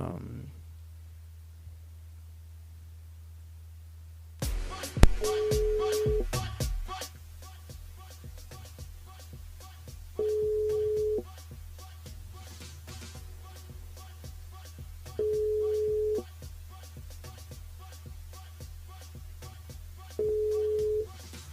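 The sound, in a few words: telephone ringing out on a phone call to a radio show caller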